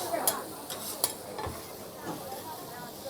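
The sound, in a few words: chow mein stir-frying with vegetables at a Shanghai stall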